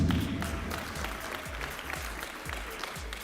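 An audience claps steadily for a long-serving awardee at an awards presentation, a dense mid-level patter of many hands that fades slightly over a few seconds.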